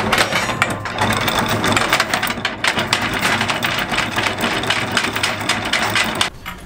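A steady mechanical whirring and rattling of an anchor windlass on an Elan Impression 50 sailing yacht runs continuously, loud and close, then stops near the end.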